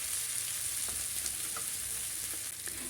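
Spice paste with cauliflower fries in oil in a pan, giving a steady close sizzle with faint crackles and stirring scrapes, and no voices.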